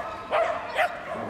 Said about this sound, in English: Obviously, a vocal dog.